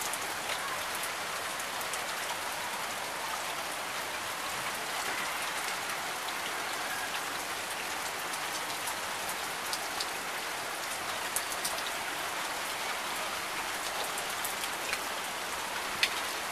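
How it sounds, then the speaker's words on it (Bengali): Monsoon rain falls steadily in June, a dense, even hiss of drops with scattered sharper patters close by, continuous and fairly soft throughout with no voices. "ভিডিও করে রাখি, বৃষ্টি দেখতে হইলে আবার কবে না কবে হবে।"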